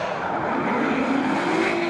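Steady roar of a Nissan S15 drift car engine held at high revs at a drift competition in Wellington, loud and close, with a faint rising whine running underneath and no voices.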